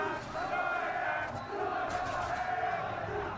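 A large esports watch-party crowd roars and yells continuously during a Valorant match, a dense wall of cheering voices with a few sharp whoops cutting through.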